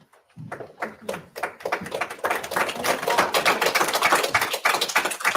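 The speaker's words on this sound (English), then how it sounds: "People did clap." A courtroom crowd at a sentencing hearing breaks into applause, starting as scattered claps and swelling into dense, sustained clapping for several seconds, fairly close and loud.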